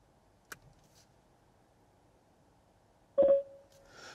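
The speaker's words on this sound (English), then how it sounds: "you must hold it down for a couple of seconds until you hear the Siri tone" An iPhone sounds the short Siri activation tone, a clear electronic beep near the end of an otherwise quiet stretch, preceded by a single faint click.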